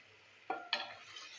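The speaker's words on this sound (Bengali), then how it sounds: "দিয়ে ভালো করে নাড়াচাড়া করবো।" Potato curry with slit green chillies is stirred in a pan, two sharp scraping strokes of a spoon against metal over a faint sizzle, close and quiet.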